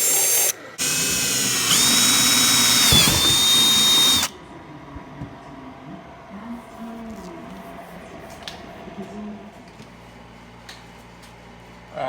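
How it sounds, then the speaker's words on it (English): A power drill whirs loudly for a few seconds while drilling holes in the door of a G-body Chevrolet Monte Carlo, then cuts off, leaving quiet handling noises. "I'm just gonna drill those and apply me a nut washer."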